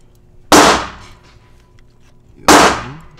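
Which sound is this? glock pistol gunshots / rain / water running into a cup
glock pistol gunshots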